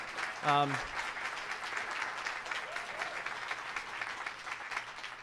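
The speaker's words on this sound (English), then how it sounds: "I just want to give a round of applause to our students" Steady applause from a crowd claps on for several seconds, fairly even in loudness, after a brief voice at the start.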